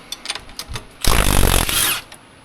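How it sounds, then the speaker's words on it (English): On a Honda axle job, a power tool with a 14mm socket removes a lower shock bolt: a few soft clicks and taps, then one loud, buzzing burst of about a second, close up, with no voices. "Now we'll get our 14mm again. Remove the lower shock bolt."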